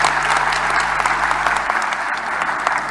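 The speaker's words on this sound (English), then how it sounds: "Give them another round of applause for me" A crowd at an official election results announcement gives a round of applause, dense continuous clapping at steady strength with no speech over it.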